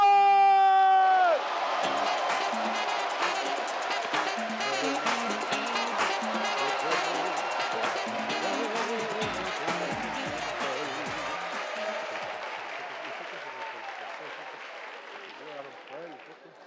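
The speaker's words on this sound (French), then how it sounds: "Accueillez avec un tonnerre d'applaudissements l'immense Joël!" A comedy-show crowd bursts into sustained applause with cheers and whoops after a brief sung note at the start, the loud clapping gradually easing over many seconds.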